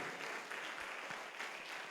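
A church congregation applauds and acclaims during a service, a fairly faint, continuous patter of clapping over a short stretch.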